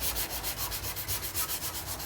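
Hand sanding of body filler on a Ford F-150 fender with 180-grit paper, steady back-and-forth strokes in a regular rhythm of about six per second, close and moderately loud with no talking.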